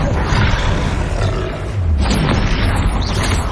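Confringo blasting spells exploding in Hogwarts Legacy, loud and close, two heavy booming blasts with a roaring low rumble, the second starting around the midpoint.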